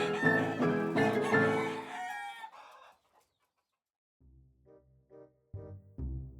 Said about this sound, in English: the stampede of furious chickens rushed by, squawking wildly